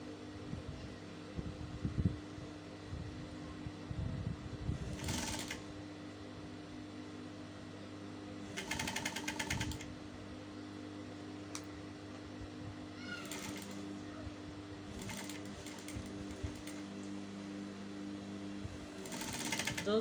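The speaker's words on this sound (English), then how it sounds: "As you're sewing, make sure you're taking out your pins so that your needle does not sew on your pin" A sewing machine stitching a reversible bucket hat runs in several short bursts of fast, buzzing mechanical chatter, separated by quiet pauses over a steady low room hum, with a cat meowing faintly at times.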